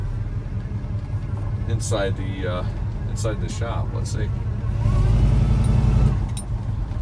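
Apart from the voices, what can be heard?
1983 Chevy K10 truck engine running and driving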